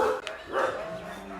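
A dog barks at an animal shelter, two or three close, fairly loud barks over a steady hum of room noise, with no talk.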